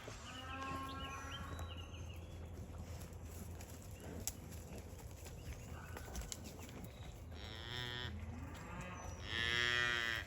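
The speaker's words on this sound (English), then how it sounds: "Oh, little baby moo." Young calf mooing on a farm, a few drawn-out bawls at moderate distance over a low background hum, with a louder moo near the end and no talking.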